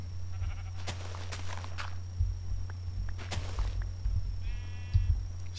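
Sheep bleating in Minecraft, a few short game bleats scattered over a steady low background hum, with soft thumping footsteps between them and no talk.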